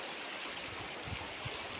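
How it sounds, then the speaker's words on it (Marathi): Water in an overflowing village stream gurgles and rushes steadily throughout, a continuous close-up flow with low churning bubbles and no talk. "खळखळाट पाण्याचं चालायचं इकडून असं"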